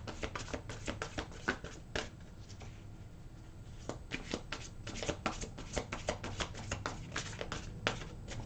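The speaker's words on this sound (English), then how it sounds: "One more little shuffle," A big, thick deck of cards being shuffled by hand, with a steady run of soft riffling and tapping bursts that grow denser toward the end, close and fairly quiet.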